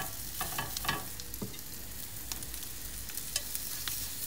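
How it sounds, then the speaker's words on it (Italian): Quail legs and stuffed rolls browning in a pan, giving a steady, close sizzle with small crackles and pops and no talk. "gli involtini e iniziamo a rosolare"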